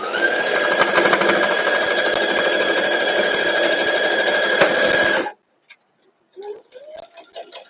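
A sewing machine stitches a quilt block in one steady, loud run of fast needle chatter, then stops abruptly, leaving a few faint handling sounds.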